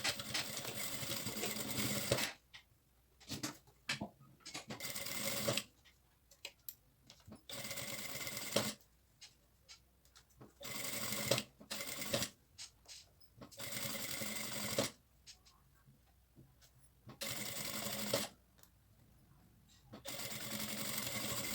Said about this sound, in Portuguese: E agora eu vou passar uma costura.